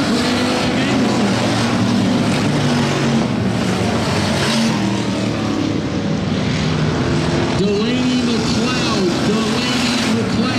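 Stock V8 race cars roar down the back straightaway on the final lap of a heat race, a loud continuous engine drone with shifting pitch, heard under a track announcer's commentary.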